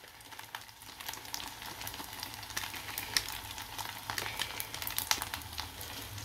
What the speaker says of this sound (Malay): Dan kita akan teruskan goreng nasi.